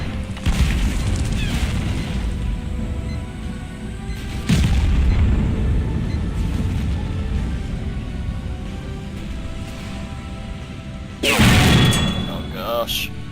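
Tank cannon shots in a medium-tank video game, two heavy booming blasts spaced several seconds apart over a low rumbling engine drone, the second followed by a sharp metallic ring, with someone talking in between.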